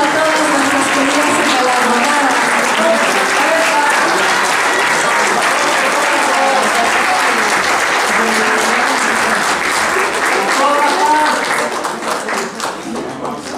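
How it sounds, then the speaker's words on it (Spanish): Loud, sustained applause from an audience honouring a group of women at a philanthropy recognition ceremony, dense clapping filling the room for over ten seconds before easing slightly at the end. "Un fuerte aplauso a todas nuestras queridas."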